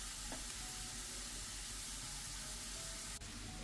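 Onion and grated carrots fry in a pan with a steady, close sizzle throughout, with no voices, softening over a few minutes before potatoes go in for spinach with potatoes.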